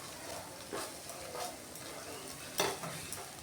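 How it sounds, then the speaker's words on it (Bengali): Spice paste of ginger, cumin-coriander, poppy seed and cashew stirred and frying in a pan for doi katla, a Bengali yogurt fish curry; steady sizzle with several scraping stirs of a utensil, one sharper clatter near the end. "এবার একটু নেড়েচেড়ে মশলাটাকে কষাতে হবে"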